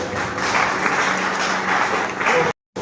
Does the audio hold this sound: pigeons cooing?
no